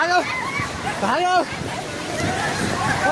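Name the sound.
flooded river water rushing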